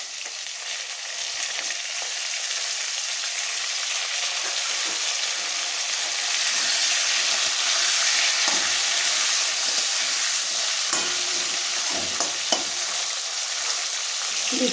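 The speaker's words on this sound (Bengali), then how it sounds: "আলুগুলো বেশ আমার লাল লাল করে ভাজা হয়ে গেছে। এই সময় আমি দিয়ে দিচ্ছি টমেটোটা।" Tomato goes into potatoes already frying in a pan, giving a steady broadband sizzle with occasional stirring scrapes, continuous and close with no talking.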